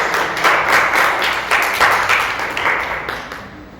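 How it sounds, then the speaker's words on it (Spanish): A church congregation at a Spanish-language service claps together in a dense, steady wash of applause that swells in waves and fades toward the end, with no talking. "Den un aplauso a Dios."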